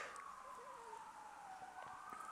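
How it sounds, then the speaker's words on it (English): Emergency vehicle siren passing outside during a thunderstorm, a faint, distant wailing tone that slowly falls in pitch over low background noise. "we have to have sirens going by outside"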